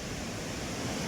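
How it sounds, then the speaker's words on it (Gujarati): Water pouring over the Shetrunji dam near Bhavnagar, heard as a steady broadband roar of falling water from the river below, continuous and fairly loud with no voices. "ઉપરથી બધું પાણી પડે છે"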